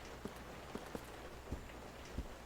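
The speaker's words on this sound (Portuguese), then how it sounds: "Olha a chuva caindo ali pelo vidro." Rain falling on glass, a faint steady patter with a few soft louder drops landing irregularly, heard without talk.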